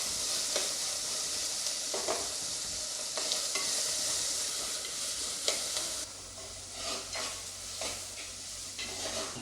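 Onion and tomato frying in a pan with no oil for a village-style mackerel curry, a steady soft sizzle with intermittent scraping strokes of a spoon stirring, close and fairly quiet.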